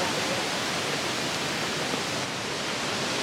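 Trois Roches waterfall in the wild Cirque de Mafat on Réunion, a steady broadband roar of falling water filling the scene evenly from start to finish with no voices.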